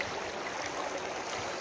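Steady rushing of river water around someone wading across a mountain river, a continuous broadband wash with no voices.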